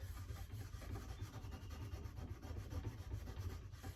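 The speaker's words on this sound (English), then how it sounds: "usually you don't have to rub very hard at all, and the rust will come off quite easily" Steady scrubbing of rust off the chrome frame of a vintage pachinko machine with vinegar, a continuous low rubbing texture, faint and close, with no talk.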